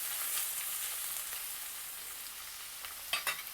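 Ginger garlic paste sizzles in a pan as palak green masala cooks, a steady, close frying hiss with a couple of light spoon clinks near the end.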